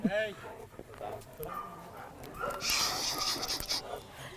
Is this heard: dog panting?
yes